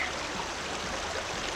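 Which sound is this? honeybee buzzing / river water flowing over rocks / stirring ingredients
river water flowing over rocks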